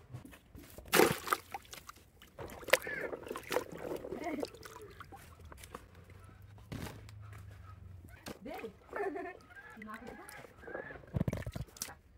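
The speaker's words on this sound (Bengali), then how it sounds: "এখন ট্যাঙ্গাটারে ভালো করে ধুয়ে নেব" A pot being washed in water, with intermittent sloshing, splashing and knocking at close range, broken up by quieter stretches and an occasional louder splash.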